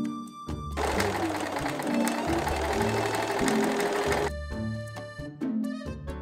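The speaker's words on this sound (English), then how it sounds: "So I went ahead and carefully sewed in my buttonholes." A sewing machine stitches buttonholes into a wool coat, running in a steady, close, continuous whir for several seconds, then stopping and giving a few short bursts.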